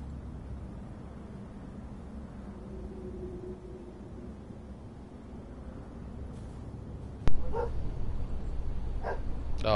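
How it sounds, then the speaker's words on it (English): A dog barks a few times near the end, starting after a sudden thump, heard over a steady low rumble of background noise. "Stupid dog."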